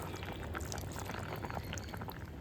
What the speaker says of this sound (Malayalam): പുളിവെള്ളവും ഇതിലേക്ക് ഒഴിച്ചു കൊടുക്കുക